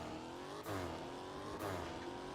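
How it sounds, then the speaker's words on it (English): A car in the video game Fix It Up accelerates down a drag strip, its engine note climbing steadily through two gear shifts with loud, continuous roaring and no talking. "I can go do one strip down the drag race and see how it does."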